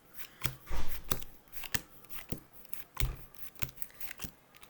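Playing cards dealt one by one into piles from left to right for a magic trick, giving a run of crisp, separate snaps and slaps at an uneven pace, close and fairly quiet with no talking.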